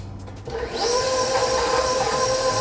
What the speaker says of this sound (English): We're gonna turn the mixer on.